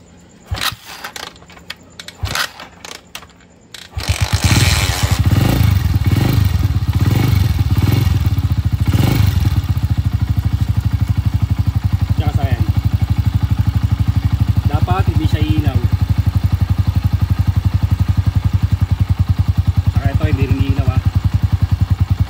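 A TMX Alpha 125 motorcycle that won't start is cranked several times, rough bursts leading into a steady, loud idle that runs on alone with faint clatter.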